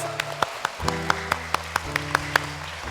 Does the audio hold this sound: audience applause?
yes